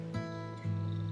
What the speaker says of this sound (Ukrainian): це кіт хрипить, якщо що